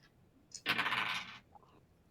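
A small three-sided die is rolled and clatters briefly on a hard surface, one quick rattling tumble lasting under a second, close and quiet.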